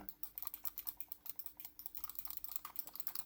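Light, rapid clicking from a silent Inphic computer mouse, a steady stream of soft, close taps at a quiet level with a faint steady hum behind it.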